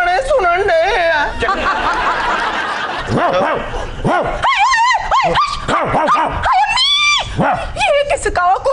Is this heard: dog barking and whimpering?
yes